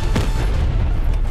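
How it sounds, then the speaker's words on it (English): Continuous heavy explosions and booming blasts from a Call of Duty Black Ops Cold War match, a dense, loud low rumble with a sharper burst near the start and no talk over it. "A lot of explosions happening."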